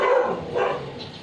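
A dog barks twice, close by, in short sharp bursts spaced about half a second apart, with nothing else around it.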